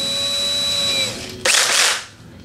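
A drill bores into the neck joint of a Gibson Hummingbird acoustic guitar during a neck reset. A whining motor tone runs first, then a brief, loud, harsh burst of cutting follows and fades out, with no talking.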